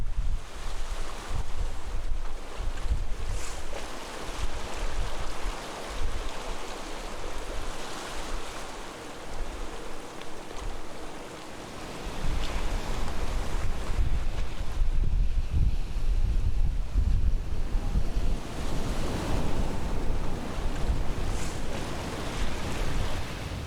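Surf breaking against the rocky East Sea shoreline beneath cliffs topped by a pavilion and pine trees in Goseong, Gangwon. A continuous wash of waves with irregular swells, steady wind noise throughout, and no voices.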